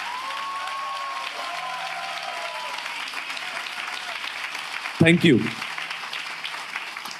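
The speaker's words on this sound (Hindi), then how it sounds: "क्या हम यीशु के बहाए हुए लहू के लिए एक अच्छी ताली बजा सकते हैं?" Church congregation clapping, a steady wash of applause throughout, while someone speaks over it with occasional tones in the background; near the end a short loud burst of handling noise cuts in.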